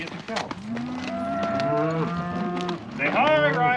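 A cow on a cattle farm lets out a long, loud, close moo, followed by a second rising bellow, with outdoor background noise.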